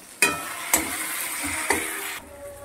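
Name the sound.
sautéing potatoes with turmeric, chili and salt in pan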